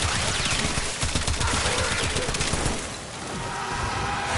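Rapid bursts of the Furis secondary pistol in its base form in Warframe, a fast chattering stream of sharp shots that fills most of the clip before easing off near the end.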